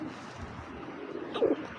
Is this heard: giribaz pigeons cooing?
yes